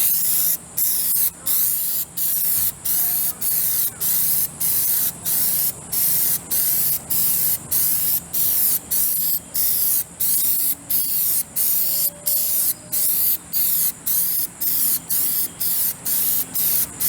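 Heavy coat of Plasti Dip sprayed from an aerosol can: loud, close hissing bursts in a steady rhythm of about one per second, each broken by a short gap.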